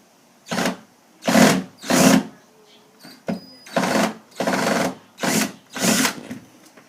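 A power drill driving a screw whirs in a series of short bursts, about seven, each lasting under a second with brief pauses between, close and fairly loud.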